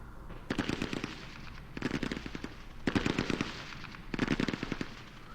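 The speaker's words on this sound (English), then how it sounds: "KV-2 firing coax, and coax machine gun" A KV-2 tank's coaxial machine gun fires in the ASL Mod war game, four rapid rattling bursts separated by short pauses, crisp and loud.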